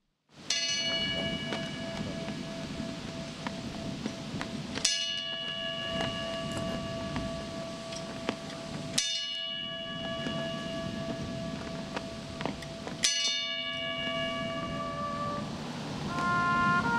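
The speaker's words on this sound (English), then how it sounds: "passed with the tolling of the bell." A bell tolls in tribute to fallen firefighters, four slow resonant strikes spaced about four seconds apart, each ringing out and decaying over a steady low background hum, with no voices.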